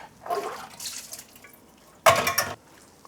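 Liquid is drained from canned chickpeas, with dripping and splashing that comes in short bursts and ends in one louder pour near the end, close by and with no talking.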